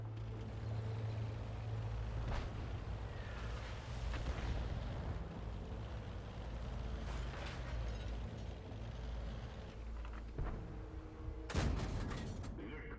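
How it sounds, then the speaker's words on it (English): Tank cannon fire in World of Tanks: a few booming shots at intervals over a steady engine rumble and wind noise, with a sharp loud blast near the end. "We do get a few shots in at the Jagdpanzer"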